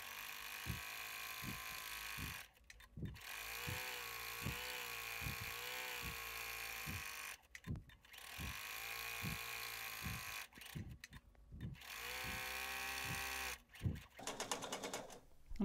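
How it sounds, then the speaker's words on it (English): A sewing machine stitches fabric seams for microwave potato bags in steady rapid bursts, pausing briefly several times between runs, close and fairly quiet with a mechanical whirring hum. "We're going to go to our sewing machine and do some sewing."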